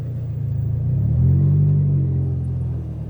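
A car engine idles with a steady low rumble while the vehicle is moved around a backyard, swelling slightly louder midway and then settling back to an even drone.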